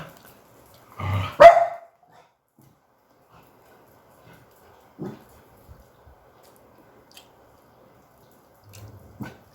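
A dog gives a short burst of barks near the start, followed by faint scattered knocks and drips in a quiet home kitchen.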